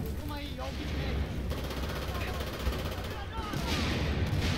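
Rapid pistol fire in a shooter video game, a dense run of sharp shots layered with other gunfire and explosions, loud and continuous, with a voice talking over parts of it.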